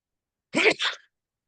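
A single sharp sneeze in two quick bursts, close and fairly loud, with silence before and after.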